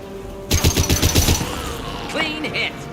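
A loud burst of rapid automatic gunfire from the video game Mass Effect 2 lasts about a second, followed by quieter game effects and a brief electronic tone.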